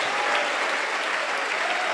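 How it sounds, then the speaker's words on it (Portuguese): A church congregation bursts into steady, dense applause, a broad wash of many hands clapping close and loud for the full two seconds, with no clear voices rising above it. "Aplauda o Senhor"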